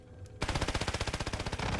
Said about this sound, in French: je lui ai mis 2 balles de snipe